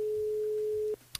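A telephone rings on the line during a call-in radio show, heard as one steady tone lasting about a second that then cuts off, followed by a faint click.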